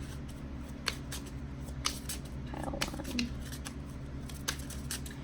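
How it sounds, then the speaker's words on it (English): Oracle cards being shuffled by hand, a steady papery riffle and slide with soft repeated snaps running throughout, close and moderately quiet, with a brief spoken word partway through. "I'm going to put them back and shuffle again"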